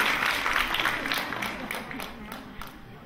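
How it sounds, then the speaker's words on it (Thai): Audience at a celebration event at Buddhachinaraj Hospital in Phitsanulok applauding after a dance performance, a dense burst of clapping that fades steadily, with voices over it. "โอ้โหขอเสียงปรบมือ"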